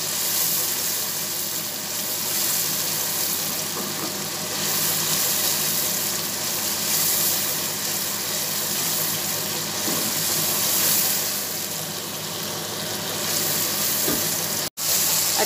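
Masala with chillies frying in a pan for dhaba-style dal mash, a steady loud sizzle with stirring scrapes running throughout, no voices.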